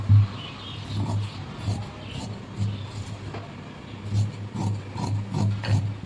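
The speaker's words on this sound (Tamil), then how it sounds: "இப்போ இதை நம்ம கட் பண்ணி எடுத்துக்கலாம்" Blouse fabric being cut with scissors, a series of soft rasping snips and rubs repeating in an uneven rhythm close by, with no talking.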